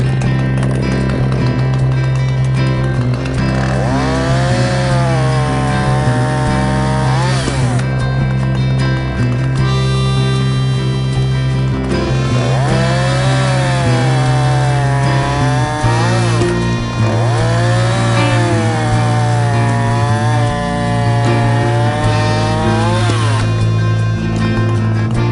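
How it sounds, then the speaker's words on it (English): A Husqvarna chainsaw fitted with a TrioBrake chain brake runs its chain loudly and continuously, with the engine note rising and falling in several revving surges over a steady roar. "Let me show you this with a running chain."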